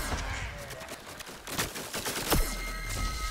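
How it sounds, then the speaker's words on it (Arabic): Rapid bursts of gunfire crackle in a shooter-style match of the video game Plants vs. Zombies, with a sharp loud crack near the middle and steady battle noise throughout. "هونيك في ضرب جاي بس ما بقدر اشوفه"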